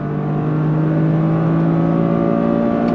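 A 2023 Toyota GR Corolla engine pulls hard in second gear toward 7,000 RPM, a loud, steady rising drone heard from inside the car without speech.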